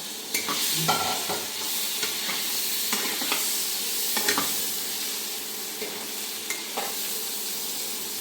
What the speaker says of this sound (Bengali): এর ভিতরে দিয়ে দেব বরবটি কাটা